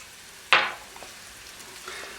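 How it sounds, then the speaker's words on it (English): Garlic and shallots frying in oil in a pan: a sharp burst of sizzling as the shallots go in, easing into a quieter, steady crackle with small pops and a second flare at the end. "our garlic is starting to bubble around the edges. We'll throw our shallots in and get those going"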